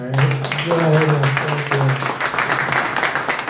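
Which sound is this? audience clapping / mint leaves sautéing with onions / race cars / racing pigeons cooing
audience clapping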